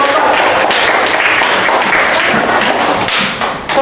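A classroom group receives a burst of applause, with steady, loud clapping from many hands filling the room before it begins to thin out at the end.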